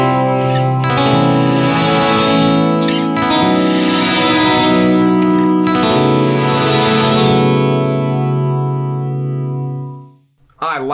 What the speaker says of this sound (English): I'm going to use the non-linear reverb mode.